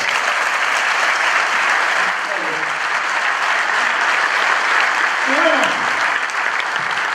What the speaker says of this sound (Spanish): despidamos con un aplauso a mi amigo